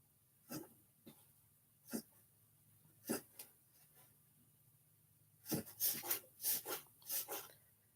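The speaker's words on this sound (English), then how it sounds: "My dog's over here. Can y'all hear her huffing?" A dog close by gives sharp, breathy huffs and snorts, a few spaced puffs and then a quicker cluster of them, fairly quiet in an otherwise still room.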